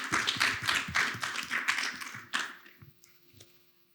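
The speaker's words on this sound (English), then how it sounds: "Please join me in giving them a round of applause." A ceremony audience applauds prize winners, a short round of clapping from a modest crowd that tapers off into a few scattered claps and quiet.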